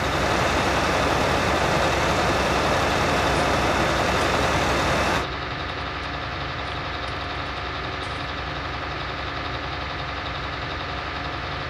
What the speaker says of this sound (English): But I love how it's idling just at 2000 RPM, no matter what.